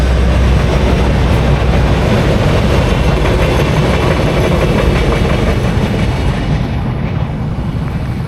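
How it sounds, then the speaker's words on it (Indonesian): A short four-car Pramek commuter train rumbles past close by, a loud steady roar of wheels and carriages with a faint rhythmic clatter, fading slightly at the end. "Kita lihat kereta terlebih dahulu ya, kereta Pramek."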